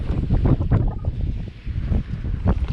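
Wind gusts buffet the microphone while fishing outdoors, a low rumbling roar that surges and fades irregularly through the whole short stretch.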